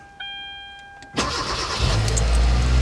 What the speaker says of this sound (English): And I hear the engine come on